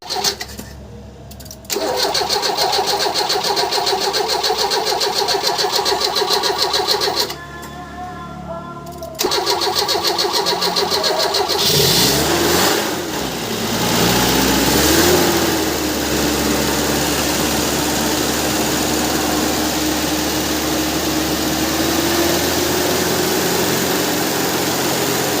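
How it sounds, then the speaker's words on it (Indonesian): A car engine cranks briefly, stops, cranks again and catches, then settles into a steady idle to warm up, loud and close, with a rev swell soon after starting. "coba kita nanti langsung kita panaskan mesinnya"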